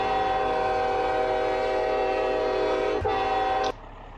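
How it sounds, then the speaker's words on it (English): A truck's train-style horn in a driving video game sounds as a long, loud, steady multi-tone blast that briefly dips, then cuts off abruptly, leaving quieter engine hum. "Like a train horn on there."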